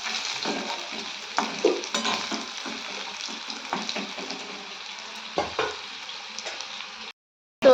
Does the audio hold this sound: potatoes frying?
yes